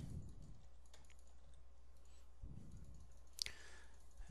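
Rapid clicking on a computer while playing a strategy video game, repeatedly hitting an age-up button, in soft clustered bursts at the start and again midway with one sharper click after, quiet and without speech.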